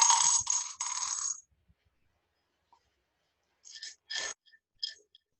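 Dice roll and rattle for a few moments, then settle with several sharp separate clicks and clinks against a hard surface after a pause, close and clear with no talk.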